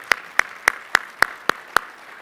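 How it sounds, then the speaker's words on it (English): Seven evenly spaced single claps ring out one after another at a steady rhythm, as an audience is asked to applaud breakout presenters at an industry recognition event; no talk. "I just want to have a round of applause for all the presenters for all the breakouts over the last day and a half"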